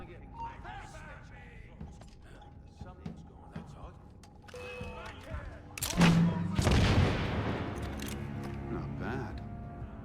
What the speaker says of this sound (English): Firing a mortar.